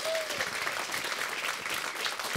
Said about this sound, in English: Can we just have a round of applause for Lewis Warner?